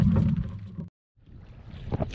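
Wind and waves buffet a fishing boat out at sea, a loud rushing roar that drops away briefly to near silence before gusty water noise builds again.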